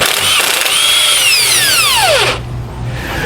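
Power tool spinning off U-bolt nuts with a 1 1/8 socket while removing mounting hardware on a 2020 Thor Outlaw motorhome; a loud continuous whine that sweeps down in pitch as the tool spins down, ending abruptly with a low hum remaining.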